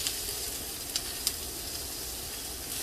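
Garlic sautéing in a pan for a broccoli side dish gives off a steady, bright sizzle, with a couple of faint ticks as it is moved about.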